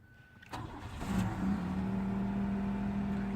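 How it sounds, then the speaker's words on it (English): A 1987 Oldsmobile Delta 88 Coupe cranks briefly and catches, its engine firing up after about half a second and settling into a steady, low idle hum with a faint whine, close by. "Alright, let's see if this thing starts up."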